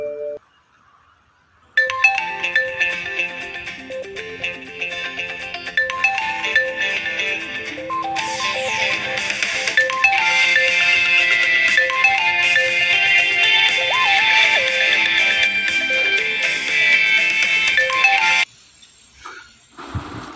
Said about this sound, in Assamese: 1 মাহমান পাছত এদিন হঠাৎ তাইৰ ফোন আহিল